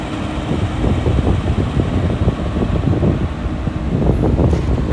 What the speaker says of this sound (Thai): มันเป็นน้ำนะตรงนี้นี่ เป็นน้ำครับก็เลยมีลมนะครับ